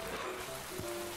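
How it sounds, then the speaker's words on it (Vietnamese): Rain falling in the Minecraft video game, a soft, steady wash of faint, even hiss with no clear individual drops. "Ôi hình như trời đang mưa đúng không?"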